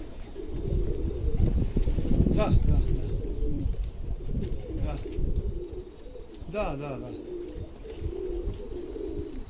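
Pigeons cooing outdoors in Zemun, Serbia, soft rolling coos repeating a few times against a steady background hum, with a voice talking over parts of it.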